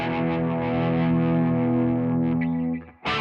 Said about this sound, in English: you can kind of hear the differences of the distortion.